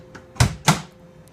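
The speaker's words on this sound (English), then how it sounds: "Return to game, close your door" A slot machine's cabinet door being shut on a Bally Alpha game, heard as two close, solid knocks about a quarter second apart, with no voices.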